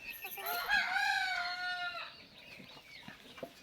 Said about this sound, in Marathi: ही बघा कोंबडी होय ढापलेली आहे ही बघा कशी